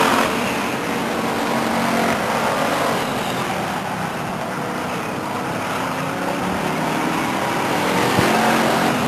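Loud, continuous roar of race cars on the Stockton 99 Speedway oval, engines droning together out of turn four with a broad, rumbling wash of sound.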